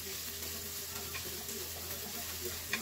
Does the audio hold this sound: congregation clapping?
no